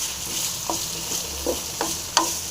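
Bitter gourd frying with salt in a pan for a pickle, a steady soft sizzle broken by a few sharp stirring scrapes and taps.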